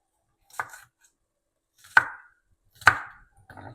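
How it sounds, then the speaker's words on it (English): A knife cuts through an onion on a board. Three or four sharp, separate chops sound close and clear, with near-silence between them. "We get the onion cut up."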